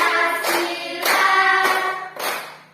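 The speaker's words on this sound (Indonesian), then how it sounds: "sambil bertepuk tangan kita bersama-sama menyanyikan lagu Garuda Pancasila" Schoolchildren in a classroom clap their hands in a steady rhythm while singing the patriotic song Garuda Pancasila together, voices and claps loud and close throughout.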